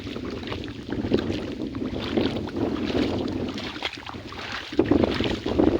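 Wind buffets the microphone in rumbling gusts, rising and falling unevenly, with a low roar dominating the outdoor scene.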